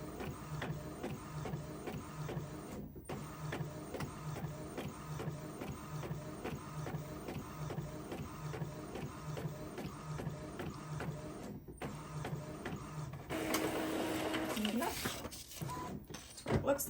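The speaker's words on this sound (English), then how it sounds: "So that's printing out nicely." A sublimation printer runs steadily, its mechanical whirr and carriage passes continuing throughout with brief pauses and a louder burst near the end.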